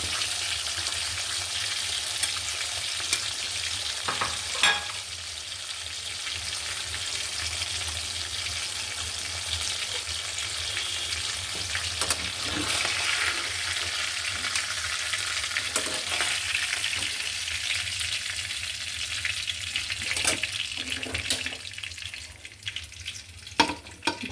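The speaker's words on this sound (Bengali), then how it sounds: "ফ্রাই প্যানটা অন্য ফ্রাই প্যান নিয়েছি মাছটা লেগে যাচ্ছে" Fish fries in a frying pan with a steady, loud hiss of hot oil, broken by occasional clicks and scrapes of stirring, with no voices.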